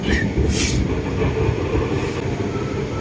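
A Pink Line electric train running toward Mueang Thong Thani rumbles close and loud with steady rail clatter, and a brief hiss of brakes or air sounds early on.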